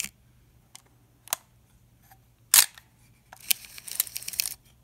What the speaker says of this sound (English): I'm actually hitting the shutter release and winding the film at the same time